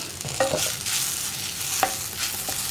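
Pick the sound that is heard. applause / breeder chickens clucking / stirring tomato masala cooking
stirring tomato masala cooking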